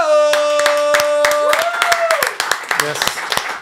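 Scattered, distinct hand claps pop irregularly, close by and not very dense, while sustained tones and a voice carry on underneath as guests are welcomed onto a talk show.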